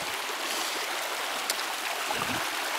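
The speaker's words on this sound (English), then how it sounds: "our walk down along the brook has led us to this point where we have a crossing of the brook" A brook flows steadily at a crossing point near a footbridge along the Old Connecticut Path in Thompson, Connecticut, with continuous rushing, gurgling water close by and no voices.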